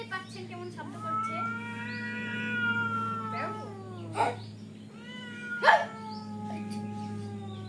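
A white cat and a bitten cat with a puffed-up tail trade drawn-out, rising and falling yowls at close range, punctuated by two sharp hissing spits midway through the standoff.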